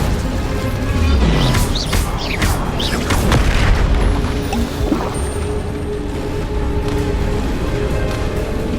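Incendio fire spells cast repeatedly in Hogwarts Legacy, loud whooshing bursts and booming flame blasts over a dense background of game effects, with several strong hits clustered early on.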